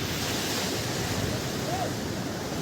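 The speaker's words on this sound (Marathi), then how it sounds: "हरिहरेश्वरचा बाकी समुद्रच एक नंबर आहे शांत वातावरण समुद्राचा आवाज थकवा दूर होतो" Sea waves roll onto the shore at Harihareshwar beach, a steady, continuous surf roar with a windy hiss and no distinct breaks, heard alone.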